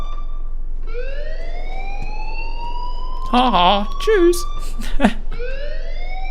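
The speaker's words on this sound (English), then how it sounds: "please turn off that alarm since that's your job" A school alarm rings in the video game Life Is Strange, rising electronic wails sweeping up repeatedly, broken by a short burst of other tones; a voice speaks briefly near the end.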